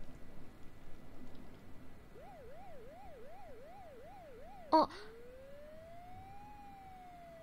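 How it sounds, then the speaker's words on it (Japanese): Wailing police car siren from the video game Satsuriku no Tenshi, rising and falling in steady cycles, then cut by a sharp hit and followed by a single long sustained tone, with a brief voice. "でもなんかさ、パトカーっぽくない？"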